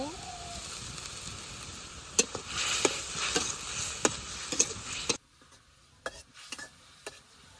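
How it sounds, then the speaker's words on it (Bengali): Dried fish (shutki) frying lightly with cumin paste in a pan, a steady close sizzle with sharp stirring scrapes that cuts out abruptly, leaving a few faint spatula knocks. "এখন দিয়ে দিব শুটকি শুটকিটা হালকা করে কষে নিব"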